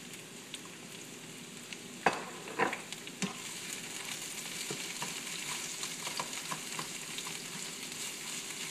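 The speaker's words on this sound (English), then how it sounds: "you're already boiling and cooking the chicken in the water" Chicken adobo simmering in a pan, with a steady sizzling, bubbling hiss throughout and a few sharper clinks and scrapes of stirring near the middle, heard alone without talk.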